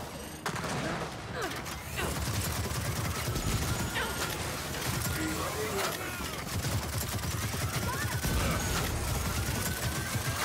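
Dense gunfire and crashing impacts from the Gears of War 4 video game, a sustained loud barrage of rapid shots and mechanical clatter filling the whole stretch, with a voice faintly underneath.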